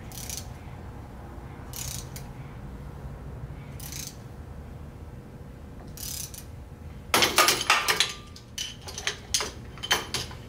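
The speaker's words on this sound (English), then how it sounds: "Start tightening our puller." A puller is tightened on a Ford 4000 tractor: faint spaced ratchet clicks over a low hum, then a burst of loud, rapid ratcheting and metallic clatter toward the end, close by.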